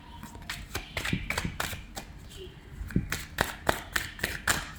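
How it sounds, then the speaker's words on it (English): Tarot cards are shuffled close by in a series of quick, sharp riffling snaps and soft slaps, uneven at first, then settling into a regular rhythm. "A few more shuffles here."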